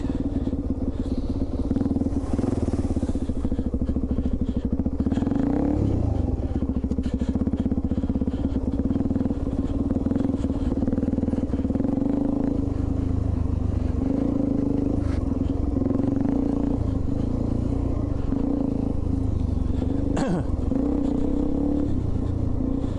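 A Suzuki DR-Z400E lightweight dual sport motorcycle is ridden along a road, its engine droning steadily with small shifts in pitch and a constant rush of wind, close and fairly loud throughout.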